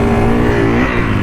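Kawasaki KX450F dirt bike engine running and revving, a steady, loud, close motor drone with a slight pitch dip partway through, with no voices.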